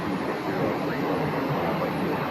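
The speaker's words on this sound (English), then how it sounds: "Pilatus taxiing to the runway" A Pilatus aircraft taxis to the runway at Phoenix Sky Harbor airport, heard as a steady, distant broadband engine whine and rumble with no clear change across the moment.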